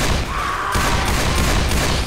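Dense, continuous gunfire from the Dead Center campaign of Left 4 Dead 2, a loud unbroken fusillade of overlapping shots with a sharper burst partway through, without speech.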